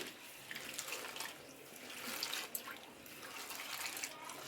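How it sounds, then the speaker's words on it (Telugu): Cold running water splashes softly as dried prawns are rinsed, with faint trickling and a few small knocks against a bowl, quiet and close. "మరొకసారి చల్ల వాటర్ పోసుకొని కడిగేసుకోవాలి"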